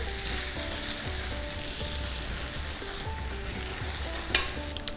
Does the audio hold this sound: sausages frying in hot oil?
yes